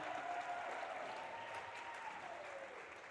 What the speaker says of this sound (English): Big round of applause for Adriana.